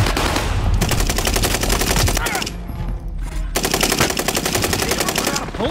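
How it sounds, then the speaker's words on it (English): Loud, sustained automatic gunfire in the Warzone Rebirth Island shooter, rapid bursts filling the mix with a short lull in the middle before the heavy fire resumes. "Taking heavy fire."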